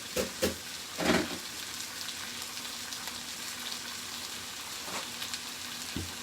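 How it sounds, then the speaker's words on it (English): Lion's mane mushrooms frying in a pan give a steady crackling sizzle throughout, with a few louder pops and clatters of handling near the start and end. "You guys hear that sizzle though, don't you?"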